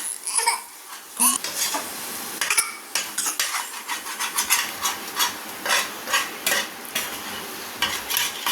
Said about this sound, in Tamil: இப்போ நம்ம கிளறி விட்டுக்கலாம் பாருங்க இந்த அளவுக்கு நல்லா பெரட்டி விட்டுக்குங்க